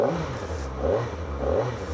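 A 2025 Kawasaki ZX-4RR motorcycle engine revving in sport mode, three quick rising blips of throttle in succession, close and fairly loud.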